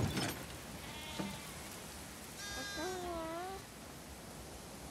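Sheep bleat in The Last of Us Part II, two wavering cries standing out over soft ambient background, the second longer and rising, with no voices.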